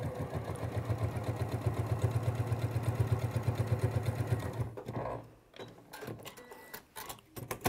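A domestic sewing machine runs in a fast, even rapid-fire chatter for about five seconds, then stops, leaving a few softer clicks and handling noises.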